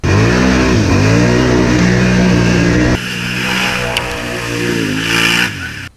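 A 2009 Can-Am Outlander 800R ATV engine revving hard up close, a loud rising and falling roar that drops briefly midway, revs again, then cuts off at the end.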